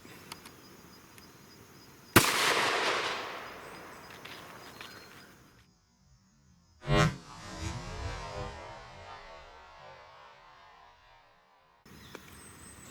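10mm Double Tap rounds fired from a Rock Island 1911 with a 5-inch barrel outdoors, two separate loud sharp shots several seconds apart, each trailing off in a long rolling echo, with quiet ambience between.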